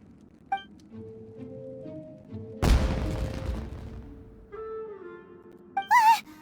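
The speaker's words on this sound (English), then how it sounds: "Was that an explosion? It sounded like fireworks." A sudden loud firework blast in Genshin Impact, with a sharp burst and a crackling tail lasting about two seconds, set among soft game music tones and short chime-like effects.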